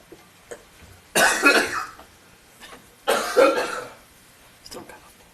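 Two harsh bursts of coughing at a city council meeting, each a short cluster of coughs, about two seconds apart, close and loud against quiet room tone.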